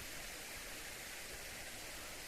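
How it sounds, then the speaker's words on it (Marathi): Steady, even rush of water trickling out from under stones in a field embankment, like a small seep running continuously, fairly close and uninterrupted throughout. "असा फिल्टर होऊन पाणी येत आहे"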